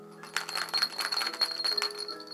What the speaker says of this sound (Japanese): 鈴の音ですがこんな感じです